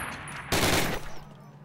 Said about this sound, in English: Fire three more rounds.